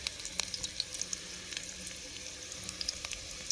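Food fries in fat in a pan on a Trangia camping stove, with a soft, steady sizzle and small crackling pops close by and no voices.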